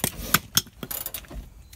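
A hand ratchet tightening the shock absorber bolts on a Ram Promaster rear suspension, several quick clicking strokes in an irregular rhythm, close and fairly faint.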